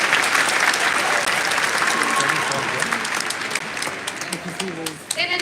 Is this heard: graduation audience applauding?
yes